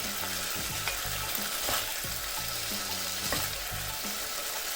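Oil sizzles and crackles steadily as chicken fries close by, with a few light clinks and stirring sounds over the constant hiss.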